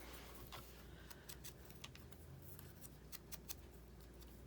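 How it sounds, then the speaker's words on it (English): Scissors nipping the edges off paper tags made from guest checks and desktop calendar pages: a run of light, close snips and ticks in quick irregular succession over a faint steady hum. "let's just nip the edges off real quick"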